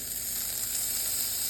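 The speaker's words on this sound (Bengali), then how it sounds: "এবার কড়াইতে অল্প একটুখানি দেবো বাটার" Butter sizzles in a wok (kadai) with a soft, even, steady hiss throughout, faint and without talk.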